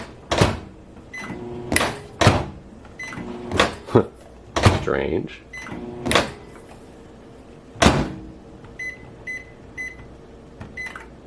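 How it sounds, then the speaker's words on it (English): A microwave oven with an intermittent fault clunks its door shut and hums to life once the door is pushed, amid repeated sharp door and button clicks, followed by a run of faint electronic beeps, with a person speaking briefly. "But if you just push the door, it starts to work."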